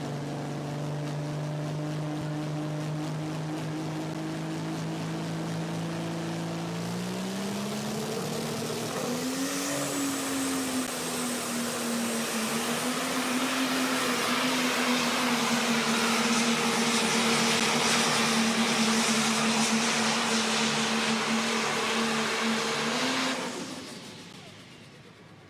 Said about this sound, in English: Let's go green one last time on our Pro Stock tractors presented by Lemke Motorsports.